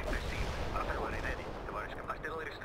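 Artillery shells land in the real-time strategy game World in Conflict: Soviet Assault, a steady, rumbling barrage of low booms under background radio chatter and voices.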